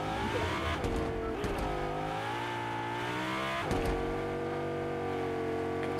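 A car engine drones steadily in the Fortnite video game, a loud, close motor tone that shifts pitch as it revs and eases with no voices over it.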